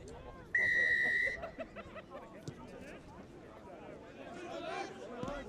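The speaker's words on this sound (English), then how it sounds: "The referee blows his whistle and we're underway." A referee's whistle sounds once in a single sustained, shrill blast to start a schools rugby match, clear over the crowd murmur, followed by a commentator talking over the distant hubbub of the ground.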